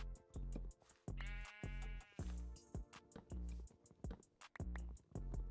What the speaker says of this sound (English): the sheeps are really complaining about being trapped in by these trees